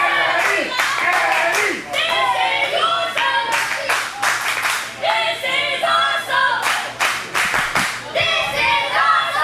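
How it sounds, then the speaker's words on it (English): A wrestling crowd claps in bursts at a live show, with sharp rhythmic hand claps and cheering mixed under steady commentary talk. "You can hear the crowd."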